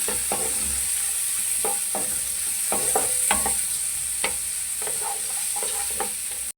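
Onions sizzle steadily in a hot pan while a spoon scrapes and clinks against it several times, close up, with no voices.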